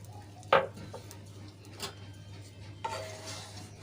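A spoon stirs semolina and water together in a cooking pan, giving a few soft scrapes and light metallic clinks close by against a steady low background hum.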